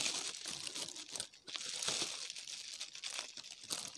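Thin plastic crinkles and rustles up close in uneven bursts, with a brief pause before the crackling resumes.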